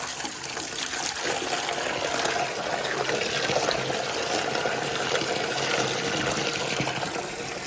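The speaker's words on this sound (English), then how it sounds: "I'm going to run some hot soapy water." Steady broadband rush of hot water pouring from a tap, continuous and close, filling a basin with no pauses.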